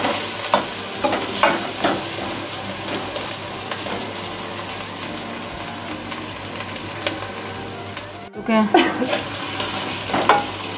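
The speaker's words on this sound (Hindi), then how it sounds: "पाँच मिनट तक आलू को इस तरह से बनाएं, इस तरह से चलाते रहें" Potatoes fry in a pan for aloo palak, a steady sizzle under repeated scraping stirs of a spoon against the pan, with a brief pause near the end before the stirring resumes.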